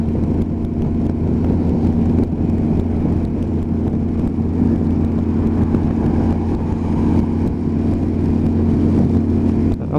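A Kawasaki GTR1400 motorcycle is ridden in the rain, its engine droning steadily and loudly under constant wind and road roar, with no clear speech over it.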